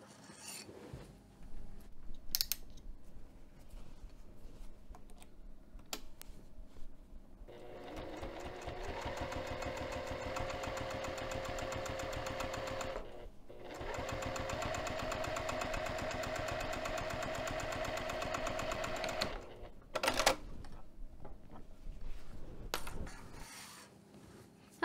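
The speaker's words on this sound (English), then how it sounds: "I'm going to top stitch 1/8 inch away from the edge of this darker blue fabric from one end to the other" A sewing machine runs steady top stitching along the edge of darker blue fabric with a lengthened 3 mm stitch, two sustained whirring runs split by a short pause, with light handling clicks before and after.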